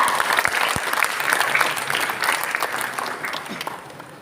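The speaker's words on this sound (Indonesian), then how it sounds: "Beri tepuk tangan yang meriah untuk kita." Loud, dense applause from the audience at the Betawi pantun festival in Jakarta, a continuous wash of clapping that stays strong and then gradually fades toward the end, with no speech over it.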